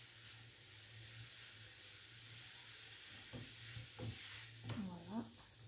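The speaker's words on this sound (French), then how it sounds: "Je vais juste faire rissoler à feu fort" Vegetables and minced meat for vegetable-and-meat cigars browning in a pan over high heat, with a steady broadband sizzle, a low hum underneath and a few brief scraping stirs near the end.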